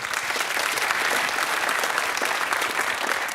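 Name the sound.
quiz teams applauding each other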